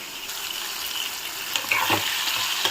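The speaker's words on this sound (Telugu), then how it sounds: "ఇంకొంచెం వేగాలి టొమాటో." Tomato sizzles and fries steadily in a pan while kothimeera pachadi is prepared, a continuous close hiss with a few louder crackling bursts and light stirring toward the end.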